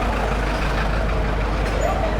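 Idling trucks on a busy Johannesburg CBD street give a low, steady engine rumble with traffic hiss around it, while someone talks over the noise close by.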